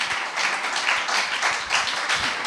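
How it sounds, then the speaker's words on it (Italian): Audience applause at an innovation festival rolls on steadily, a dense wash of clapping with slight swells, moderately loud and without any voices over it. "Lui la chiama l'applauso, Montezemolo, lo chiama l'applauso."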